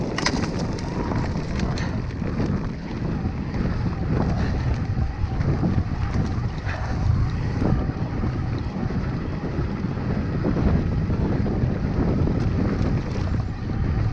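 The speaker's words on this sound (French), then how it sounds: "Alors, il fait beau, mais il y a la bise." Cold north wind (bise) gusting through woodland on a sunny day, a steady loud rushing roar with heavy microphone buffeting throughout, no speech.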